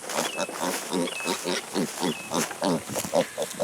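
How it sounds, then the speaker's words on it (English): A Kunekune pig grunts in a rapid series of short, close snuffling grunts in an even rhythm, with faint high squeaks and buzzing insects behind. "I'm sure you can hear him now, we got another Cooney pig."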